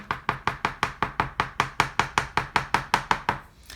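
Rapid, evenly spaced tapping of a chalk pastel making dots on paper, about sixteen crisp dry taps in a steady rhythm, close and fairly quiet.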